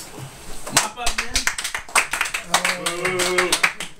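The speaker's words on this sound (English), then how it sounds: "we can have a round of applause for last year's first place winner" A room of darts players at a draft-day gathering claps for last year's first-place winner, a loose scattered round of sharp hand claps and taps with voices talking over it.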